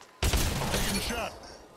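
A gunshot in the Apex Legends video game: one sharp, loud blast that bursts in suddenly and rings out in a dense wash for about a second before fading.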